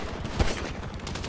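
Gunfire in Grand Theft Auto V, a dense crackle of shots with one sharper close report standing out amid the steady volley, loud and continuous over a short span.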